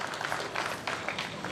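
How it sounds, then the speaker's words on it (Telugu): Small audience at an Arangetram dance debut clapping, a faint, brief patter of applause from a thin crowd. "తక్కువ మంది ఉన్నా ఎక్కువ చప్పట్లు రావాలి"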